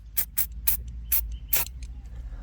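Liqui-Moly diesel intake cleaner sprays onto a diesel intake manifold in five short hissing bursts, close and crisp, with faint clicks between them and a quiet pause after.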